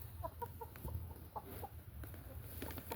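Chickens cluck in short, scattered bursts as they walk in snow outside their run. The calls come from fairly close over a quiet, low outdoor background, with no talking.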